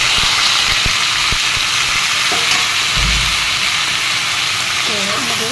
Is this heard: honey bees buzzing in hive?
no